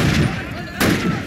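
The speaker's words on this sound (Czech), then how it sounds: "Tamhle někdo střílí." Two sharp gunshot bursts in Call of Duty 1, the second loud and sudden, over a dense rumbling background.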